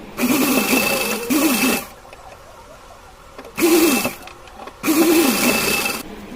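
A domestic sewing machine runs stitches along the sleeves of a small doll dress, three close bursts of rapid mechanical whirring separated by quiet pauses.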